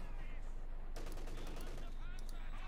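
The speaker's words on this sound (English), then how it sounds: "Machine guns soaring through the Yankees" MG42 machine gun bursts in Company of Heroes 2, a rapid crackling volley of gunfire that starts abruptly partway through and continues over a busy battlefield background, moderately faint.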